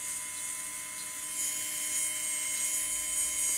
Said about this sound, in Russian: Можно шлифовщиком пройти.